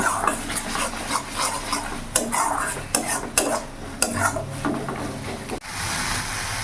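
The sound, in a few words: spice masala being stirred and sautéed in a pan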